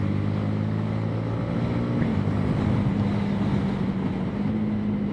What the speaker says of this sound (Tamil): அந்த சவுண்டு கேட்குறதுக்கே இந்த ஜாப்பனீஸ் இன்ஜினோட அந்த ரோர் கேட்குறதுக்கே சூப்பராக இருக்குன்னு சொல்லலாம்